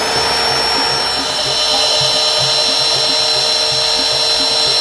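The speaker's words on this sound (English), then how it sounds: "This drilling will give us information about the condition of the pole below grade." A resistograph drills at 45 degrees into a wooden utility pole below grade: a steady, high-pitched motorized whine runs continuously, loud and close, with a faint low rhythmic chatter beneath it.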